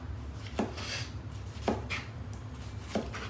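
Fresh salsa ingredients are hand-chopped with a sharp knife on a cutting board, three distinct close knocks spaced about a second apart over a soft steady background.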